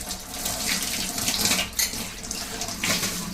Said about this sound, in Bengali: ঠাকুরের জল পানের জন্যে ফিল্টার থেকে জল নেওয়া হবে